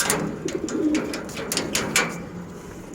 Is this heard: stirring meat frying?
no